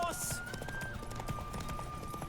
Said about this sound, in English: The horse.